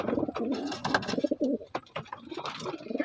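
Racing pigeons coo in a loft being basketed for a race, with soft, repeated throaty coos and wing rustles close by, filling the short stretch without any talk.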